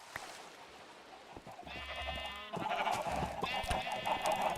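Sheep in the video game Minecraft bleat several times in a row, wavering calls that overlap and come from close by, with light game sounds between them and no talking.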